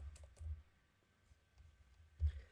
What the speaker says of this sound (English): type in LinkedIn